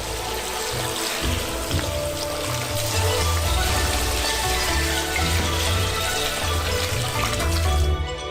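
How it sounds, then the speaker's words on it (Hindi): Water streams from a tap into a pot, a continuous splashing pour that shifts slightly in tone as it fills. "पैन को पानी से भरे।"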